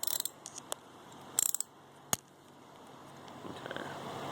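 A ratchet with a 10 mm socket works a carburetor bolt on a CBR600F motorcycle, giving a few sharp, quiet clicks in short clusters followed by a soft mechanical rustle.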